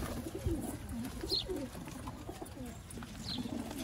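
In a loft of around eighty Sialkoti pigeons, low cooing rises and falls faintly and continuously from many birds at a middle distance, set against a constant hiss of background noise.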